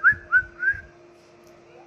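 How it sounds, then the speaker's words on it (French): A person whistles behind a closed door, giving three short rising whistled notes in a quick rhythm, fairly clear and moderately loud, followed by a pause and a brief final chirp. "siffler derrière une porte fermée."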